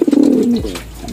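Racing pigeons give a loud, close, throaty coo with a rolling pulsed start that settles into a smooth drawn-out note, followed by faint fluttering.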